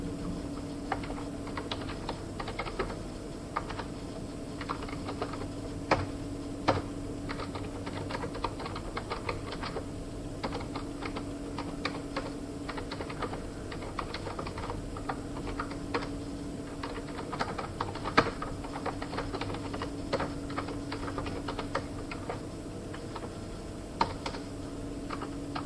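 Steady computer keyboard typing while a simple hello world program is written in C++, with irregular clicking keystrokes running throughout at a moderate, close level over a quiet background hum, with no talking.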